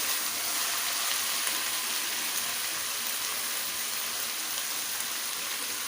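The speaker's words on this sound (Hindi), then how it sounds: "इसको हम अच्छी तरह से भून लेते हैं।" Masala frying in a pan for Kabuli pulao, a continuous, fairly soft crackling sizzle that holds an even level throughout with no speech.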